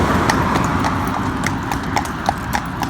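Hooves of Tonto, a horse being trained in road traffic, clip-clop steadily on tarmac in a close, even walking rhythm over a constant rumble of passing vehicles.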